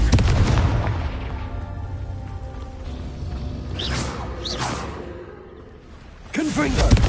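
Confringo fire spells explode in the video game Hogwarts Legacy, with a loud burst at the start, two whooshing blasts in the middle, and a fresh explosive blast near the end, all over a rumbling game background with a voice present.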